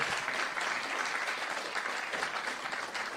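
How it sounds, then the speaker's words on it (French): An audience applauds at a live French talk show with young artists, a dense, even patter of many hands clapping continuously, close and steady throughout, with no voices over it. "Un tonnerre d'applaudissements pour eux, s'il vous plaît."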